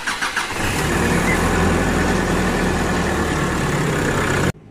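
A Nissan Calibre pickup's engine cranks briefly and catches, then settles into a steady, loud, close idle that runs until it cuts off abruptly near the end, with no talking.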